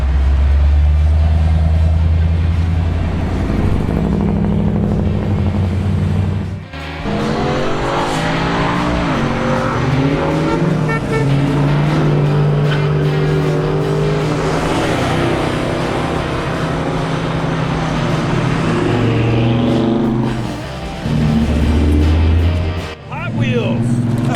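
Cars accelerating and passing on a road during the Power Tour 2025 car event, with engines revving loud and close, rising and falling as vehicles go by, while people talk over much of the noise.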